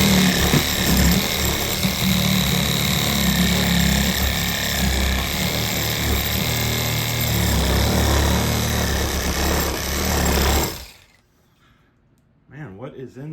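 A reciprocating saw fitted with a long torch blade grinds steadily into a 3 lb Pittsburgh dead-blow hammer, a loud, continuous rasping buzz lasting about ten seconds before cutting off abruptly, followed by faint quiet handling noise.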